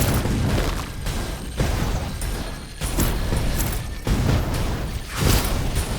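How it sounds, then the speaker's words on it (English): Video game explosions from a Talisman of Living Bomb in a Barbarian build: repeated booming bursts land every second or so in a dense, loud barrage, with no talk. "Those explosions you're seeing is the Talisman of Living Bomb."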